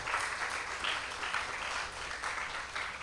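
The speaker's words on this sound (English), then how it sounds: "Please give Faith a round of applause, and the entire committee a round of applause." Round of applause from a crowd of children and adults at a UNICEF Wall of Promise unveiling in Barbados on World Children's Day, dense even clapping at moderate distance with slight swells, no voices.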